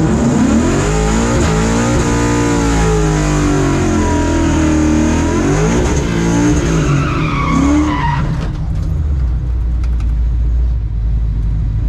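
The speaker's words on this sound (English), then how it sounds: "We're racing my younger brother in his 1980 Mustang Cobra." A Coyote-swapped Mustang races a 1980 Mustang Cobra, with loud sustained engine roar and rising revs, tire squeal and skidding throughout, the noise easing off near the end.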